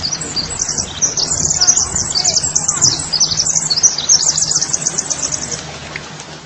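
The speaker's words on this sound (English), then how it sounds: "When we hear the sound of the earth, we can see it sounds deeply similar to the sounds of birds singing." Dense, high, twittering chirps like a flock of small birds run steadily throughout, fairly loud over a faint low hum. It is presented as a recording of the Earth.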